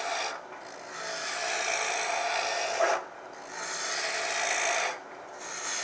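A roughing gouge cuts spinning wood on a lathe while turning a honey dipper, giving a loud continuous rasping hiss in long passes broken by brief pauses between cuts.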